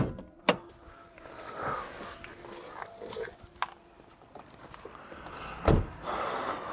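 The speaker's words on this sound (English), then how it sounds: "What I'm going to do is unlock the car, making some funny sounds." A hybrid car is unlocked with its key fob, answered by sharp clicks and thumps of the locks, brief electronic chirps and motor whirs, with quiet handling noise between them.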